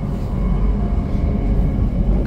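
Interior of a Class 720 electric train in motion, a steady loud low rumble with broadband running noise and no voices.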